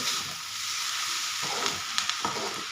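Bitter gourd and onions frying on a low flame, a steady soft sizzle with a few light stirring clicks and scrapes near the end, no voices.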